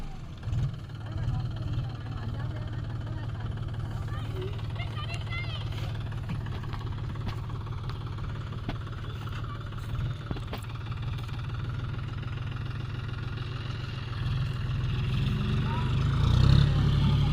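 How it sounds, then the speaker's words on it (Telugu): Steady low rumble of tractor engines running while two tractors are hitched to pull out a stuck tractor, a continuous droning throb that swells louder toward the end, with scattered clanks and a voice talking over it. "ఆ 2 ట్రాక్టర్లు కలిసి ఒక ట్రాక్టర్ని గుంజుతాయి."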